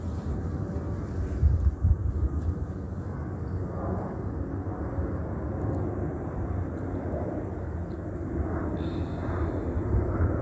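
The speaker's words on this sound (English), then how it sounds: "That is plane activity." An airplane passes overhead at night, a steady low rumbling roar that fills the whole stretch without fading, fairly distant and unbroken, with no voices.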